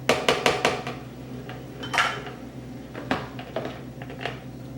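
A utensil scrapes eclair dough off metal food processor blades, producing a quick cluster of sharp clinks and taps followed by sparser scrapes and knocks, close and fairly quiet.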